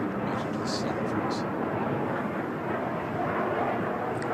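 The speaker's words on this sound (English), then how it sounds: "مناورات رائعة لطائرة التيجاس. الآن تمر أمام منصة على ارتفاعات عفوا على سرعات منخفضة." An HAL Tejas fighter jet makes a low-speed pass in front of the stand at the 2016 Bahrain Air Show, its engine a broad, steady roar that holds for the whole stretch.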